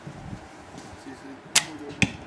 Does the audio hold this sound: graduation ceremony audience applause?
no